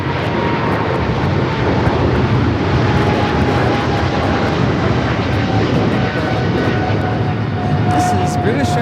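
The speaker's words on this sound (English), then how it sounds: "This is British Airways 282 taking off to London Heathrow on the 777 300ER" A British Airways Boeing 777-300ER roars through its takeoff at Los Angeles airport, a loud, steady, broadband engine rumble that holds for the whole stretch with a faint tonal whine above it.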